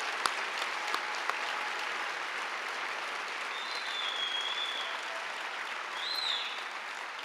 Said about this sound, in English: One more round of applause for Sophia as well, please.